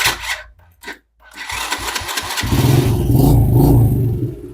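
An old motorcycle that has not been run for a long time being started: a few short cranking bursts with pauses, then the engine catches and settles into a loud, steady, throbbing idle close by.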